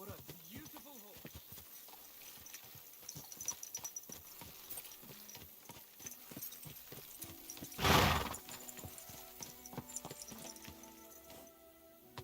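Soft horse hooves clip-clop in a steady rhythm in the video game Kingdom Come: Deliverance II, with a brief burst of noise in the middle; the sound is faint overall.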